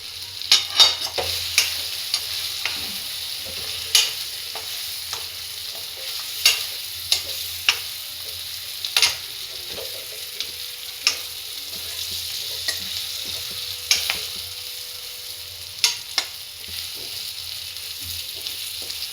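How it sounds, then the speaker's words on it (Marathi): Bitter gourd pieces stirring and frying in a pan with homemade chilli powder, steady soft sizzle throughout with repeated sharp scraping clicks of a spatula at irregular intervals, close and alone. "आता कारले टाकून द्यायचे त्याच्यात"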